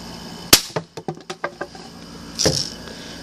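A pumped BB gun fires with one sharp crack at a flip phone, followed by a quick run of small rattling impacts and clatter, then a second burst of noise a couple of seconds later; close and fairly loud, no talking.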